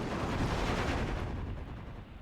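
Gunfire and mortar fire in a World War II strategy video game battle: a dense, continuous rumble of overlapping shots and blasts that fades slightly toward the end, with no voices.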